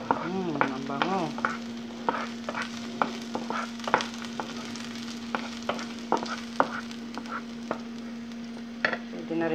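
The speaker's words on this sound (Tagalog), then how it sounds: "Kawali, lalagyan na natin ang bawang." Chopped garlic fries in a pan for Filipino adobo, with a soft sizzle beneath a steady low hum and repeated sharp clicks and scrapes of a spoon stirring against the pan.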